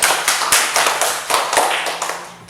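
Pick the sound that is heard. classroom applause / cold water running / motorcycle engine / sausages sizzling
classroom applause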